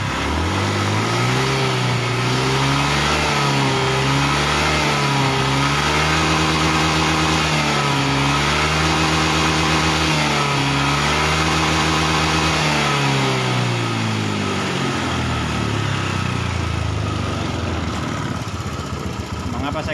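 A Honda Beat ESP motorcycle engine with a misfiring, sputtering fault revs loudly and repeatedly in a workshop, rising and falling in rhythmic throttle bursts.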